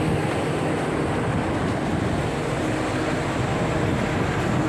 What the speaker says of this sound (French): il y a le bus, le DMV, le bus-train qui est en train d'arriver